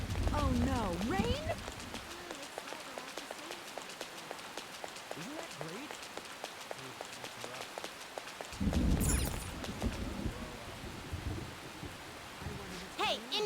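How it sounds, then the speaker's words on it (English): Rainfall in the video game Persona 5 Royal, a constant hiss of rain under in-game music and voices, with a louder burst partway through that could be thunder. "Oh no, rain?"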